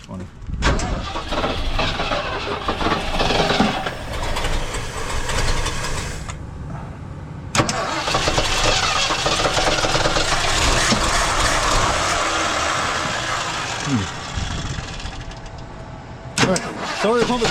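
Engine of a 1977 Ford LTD station wagon, left in a junkyard for 17 years and likely flooded, with a leaking accelerator pump: loud, repeated cranking in long rough bursts with short breaks, close by, while people talk throughout.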